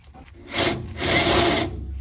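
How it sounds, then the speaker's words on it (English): A drill bores a hole in metal underneath a Silverado pickup truck, with a short grinding burst followed by a longer, louder sustained whir close to the microphone. "Let's go drill a hole and pop this critter in."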